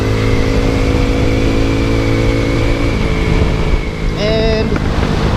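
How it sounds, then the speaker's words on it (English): Boom Vader Grom-clone motorcycle engine held at full throttle, a loud steady drone with wind buffeting the microphone, and a brief rising whine near the end. "Even on full throttle, it's not losing any power."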